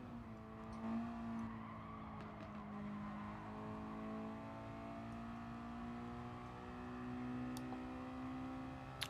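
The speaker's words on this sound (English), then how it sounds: "Just pulling the revs all the way up." Race car engine held at high revs during a Legion of Racers championship qualifying session, a loud steady drone with sustained harmonic tones that rise and fall slightly, plus brief tire squeal near the end.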